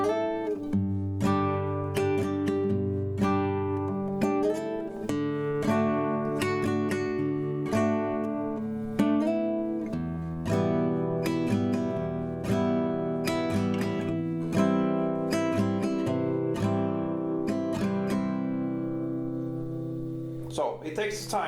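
Acoustic guitar strums the intro chords of a song, a bouncy, syncopated pattern of chord hits repeating for about twenty seconds, up close and moderately quiet, ending with a brief slide.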